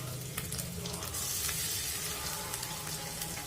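Ginger paste fries with onions in a pan, a dense, continuous sizzle close up with faint scraping of a spoon now and then, no voices over it.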